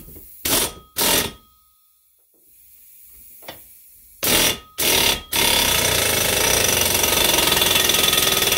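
Pneumatic air tool driving a Lisle exhaust pipe expander, PN 34400: two short loud bursts, a pause, two more bursts, then a sustained close-up run to the end.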